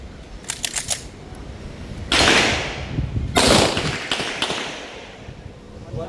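Gunshots from test-firing a handloaded round made with BA32 powder, two loud sharp blasts a little over a second apart, each with a lingering echo, after a quick burst of mechanical clicks near the start.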